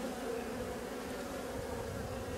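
Honey bees in an opened hive make a dense, steady buzz with no letup, close and fairly loud, with no other sound.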